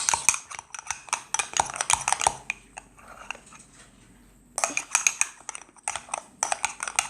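Thick slime worked in a bowl, giving bursts of wet squelching and clicking, then a quiet pause of about two seconds before the squishy stirring resumes close up, with no talking.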